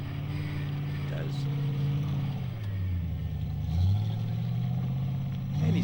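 A 4x4 trials truck grinds through a muddy bog at a Whanganui event, its mid-pitched engine droning, dipping and then revving harder. A commentator talks over the engine throughout.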